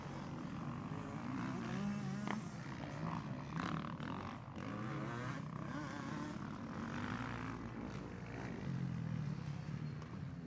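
Motocross motorcycles race around a track, with the leader on a Yamaha, their engines a continuous droning whine that rises and falls at a distance, steady throughout with no talk over it.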